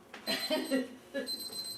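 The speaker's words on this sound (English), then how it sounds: "What's that sound, Mama? my timer that I wouldn't give away." A kitchen timer going off while biscuits bake, a short ringing alarm tone in two quick bursts, close and fairly clear, with nobody talking.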